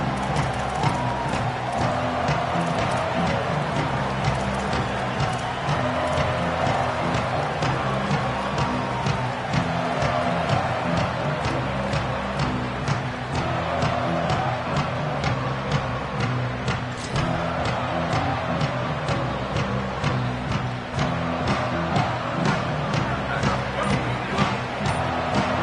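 Stadium crowd in an NCAA college football video game, a steady loud roar of cheering and babble running unbroken throughout, with rhythmic chanting pulses within it.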